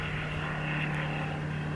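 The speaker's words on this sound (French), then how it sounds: "Ça c'est un tout petit avion, vous savez, de promenade quoi, c'est pas un Boeing quoi." A small light propeller plane used for leisure sightseeing flights passes overhead, giving a steady, moderately distant engine drone that holds even throughout with no talking.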